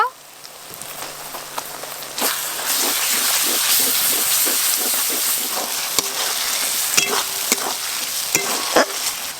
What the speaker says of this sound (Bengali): মশলা কিন্তু আগে থেকে ভাজা আছে, তাই ভাজা বাটা মশলা বেশিক্ষণ নাড়তে সময় লাগবে না।